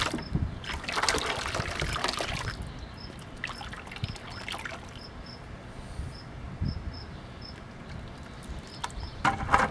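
Liquid clay slip poured into a plaster of Paris mold gives a brief rushing, splashing burst near the start. Steady cricket chirps continue faintly in the background afterward.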